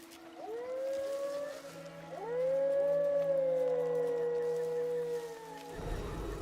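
A long mournful howl from a creature, a she-wolf runt, in Soulframe, rising in pitch and sliding down in two drawn-out wavering calls over a steady low hum, ending in a burst of noise.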